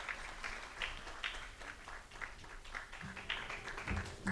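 A large outdoor crowd applauding after a speech by the President of Greece during the Pope's visit to refugees, a steady wash of clapping at moderate distance with faint rhythmic peaks.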